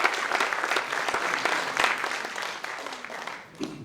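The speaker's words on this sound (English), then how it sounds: "Give our 6 volunteers a round of applause." An audience at a Saskatoon Fringe show applauds volunteers with a continuous, fairly faint spread of clapping from many hands that gradually thins toward the end.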